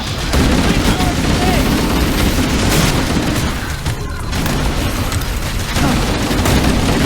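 Heavy, sustained gunfire and booming blasts from Halo: Campaign Evolved fill the scene loudly and almost without a break, with shouted voices mixed in among the volleys.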